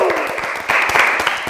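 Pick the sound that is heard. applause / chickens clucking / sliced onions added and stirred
applause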